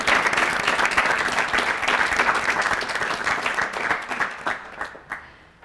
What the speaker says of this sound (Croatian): I aplauz za negaciju.